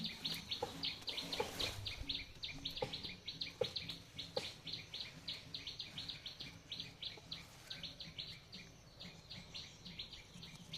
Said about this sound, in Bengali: টুনটুনি পাখি